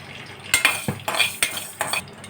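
Fenugreek seeds frying in a pan for a korameenu fish pickle are stirred with a spoon, giving a soft background sizzle broken by several quick scraping clinks, close by.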